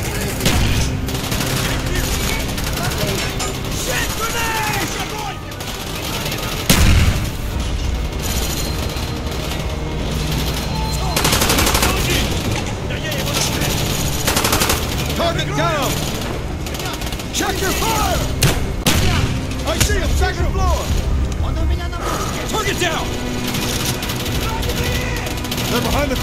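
Video game Call of Duty Black Ops combat with nearly continuous rapid gunfire, bursts and a thudding grenade-like explosion, loud and dense throughout, as voices shout over the battle.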